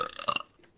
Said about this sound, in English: I burped and that tastes terrible.